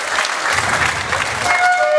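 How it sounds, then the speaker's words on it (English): An audience applauds veterans at a concert, with a broad wash of clapping and crowd noise under a voice talking over it. "Let's give them a big round of applause"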